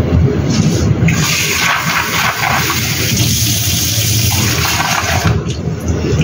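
Water runs and splashes steadily into a bowl of dried black fungus (wood ear) set to soak, a loud continuous pouring rush lasting throughout with no talk.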